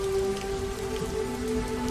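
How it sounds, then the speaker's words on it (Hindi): Rain falls in a steady patter of drops on surfaces, with a soft sustained tonal hum beneath it and no speech. "और आज भी बारिश हो रही है"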